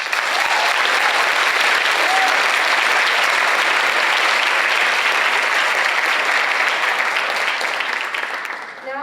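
Sustained audience applause for senior class officers at a school ceremony, a dense, steady roar of many clapping hands lasting throughout and tapering slightly at the end.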